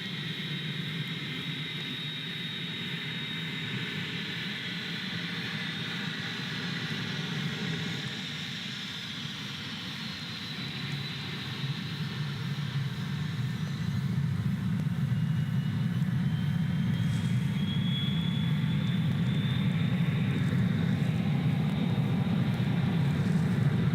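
An airliner takes off at Gold Coast Airport in heavy rain, with a continuous roaring engine rumble that swells steadily louder over rain hiss, heard from a distance, with no voices.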